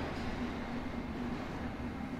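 A London Underground District line S7 stock Bombardier Movia train runs steadily between stations, a constant low rumble with a faint motor hum, heard from inside the carriage at moderate level.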